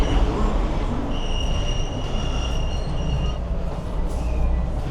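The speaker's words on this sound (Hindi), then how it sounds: "तो ये वाली metro direct Osaka railway station पे जा रही है" Metro train in Japan running toward Osaka railway station, a loud continuous rumble of wheels on track with a high metallic squeal rising over it, heard from inside the car.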